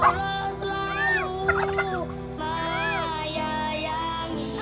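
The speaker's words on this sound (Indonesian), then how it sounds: "Ini ayam kalkun." Repeated gobbling calls from turkeys in a bird park ring out clearly at moderate distance, each burst a quick bubbling warble, with a constant droning hum underneath.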